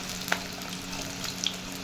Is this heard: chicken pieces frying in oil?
yes